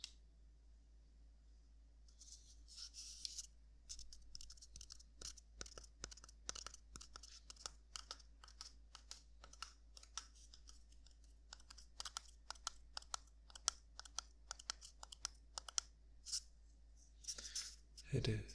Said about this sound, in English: the empty paper roll, the cardboardish paper feel